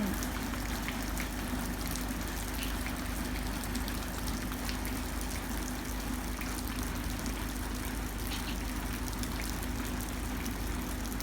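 Steady light rain patters continuously on a surface, a soft even hiss with faint drips, no voices.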